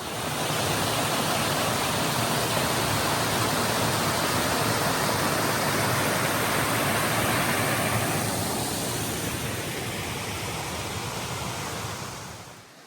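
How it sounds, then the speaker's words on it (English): Cooper Brook Falls in Maine roaring as a steady, loud, broadband rush of falling water, close and continuous for the whole stretch before easing slightly at the end. "we're at Cooper Brook Falls"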